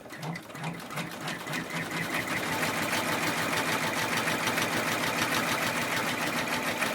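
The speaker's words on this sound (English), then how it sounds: "Now I'm going to run this one single stitch across the top" An in-the-hoop embroidery machine stitches a tack-down line across a 4x4 zipper bag held under the hoop, a fast, steady mechanical whir and rattle running close and loud throughout.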